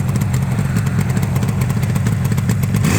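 A 1978 Yamaha RD400 two-stroke motorcycle idles steadily up close, its uneven burbling putter and light mechanical clatter running continuously without any talk.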